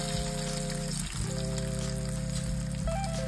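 Fish sizzling as the pieces fry in hot oil, a steady continuous hiss and crackle held close, with a brief dip near one second and a faint tone running underneath.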